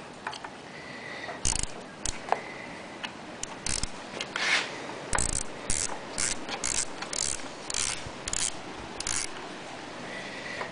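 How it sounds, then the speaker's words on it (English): A small hand ratchet clicks in repeated short bursts while loosening a part on the jet carburetor of a 1968 Johnson 6 hp outboard motor, close and crisp with pauses between strokes. "I'm going to use that little ratchet that I was telling you about"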